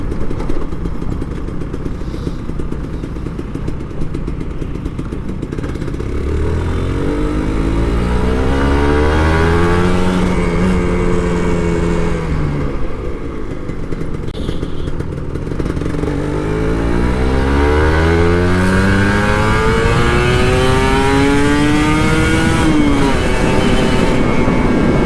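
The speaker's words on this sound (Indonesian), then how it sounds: "Kalau bawa ninja tuh bawaannya apa ya, ngegas aja, asik." A 150cc two-stroke Kawasaki Ninja RR motorcycle revs hard and close, its engine note climbing and falling through repeated rising sweeps over a steady loud drone, with no talking.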